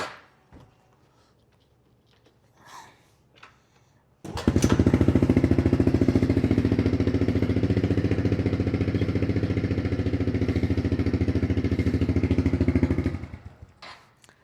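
After a few quiet knocks, a 2021 Honda CRF110 dirt bike with an FMF exhaust fires up and runs loud and steady with a deep, throaty exhaust rumble, then cuts off.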